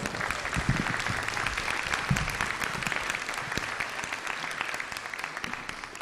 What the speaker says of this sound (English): Can we please give Caitlin a round of applause?